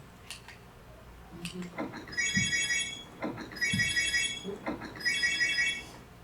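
Three short bursts of rapid high-pitched electronic beeping from a TI-88 calculator, evenly spaced, with soft clicks and handling noise in between; no talking.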